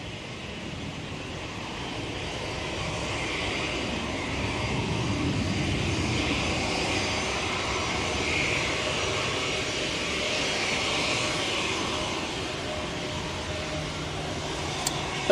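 Passenger airliner taxiing after landing at Manchester Airport during a storm, its engines a steady broad roar mixed with gusting wind, continuous and fairly distant with no speech.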